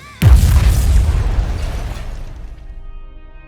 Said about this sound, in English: While all the monsters celebrate the victory, the bomb is detonated.